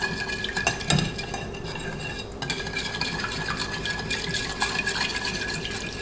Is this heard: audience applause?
no